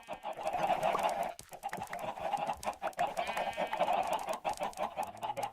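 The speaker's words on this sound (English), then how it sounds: "We just throw these eggs at these chickens." Chickens in the game Minecraft cluck repeatedly in a steady, busy stream, fairly close and continuous with no talk over them.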